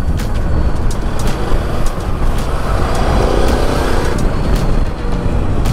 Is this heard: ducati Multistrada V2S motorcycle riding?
yes